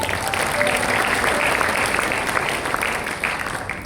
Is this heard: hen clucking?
no